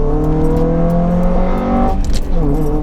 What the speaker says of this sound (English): bit of heel and toe down here, third gear